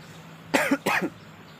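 Two quick, harsh coughs in close succession, loud and near, with quiet background before and after.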